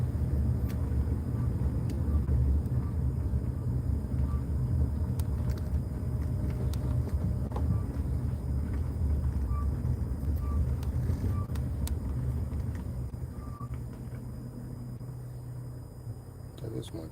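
A vehicle engine rumbles outside with a steady, low drone and a few faint beeps, continuing for the whole stretch while someone talks over it.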